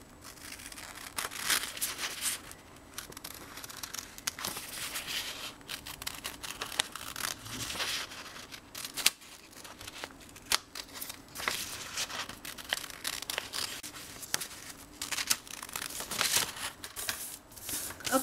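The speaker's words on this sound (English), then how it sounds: "now we're going to cut it according to the pattern that I just drew" Scissors snip and crinkle through paper along a hand-drawn pattern for a paper Christmas tree, a long, quiet, close run of irregular cuts and rustles with no talking.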